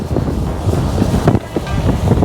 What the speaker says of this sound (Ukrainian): Оце вітер дує, так дує.